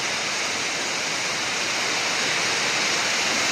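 Heavy downpour with rushing floodwater along a road: a dense, constant roar of rain and water, loud and unbroken.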